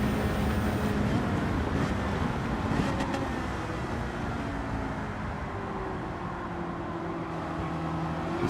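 A Ferrari engine in Gran Turismo 7 hums in a steady, continuous drone with a faint whine, moderately loud, with a voice speaking over it.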